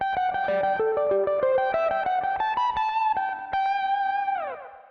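Electric guitar plays a fast repeating pedal-tone figure, alternating a fixed pedal note with a shifting melody line, bright and effected with echo, no voices.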